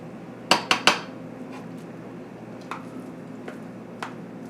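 A spoon serving pot roast and mashed potatoes onto a plate: three quick, bright clanks of metal on dish close together, then a few softer, scattered taps and scrapes.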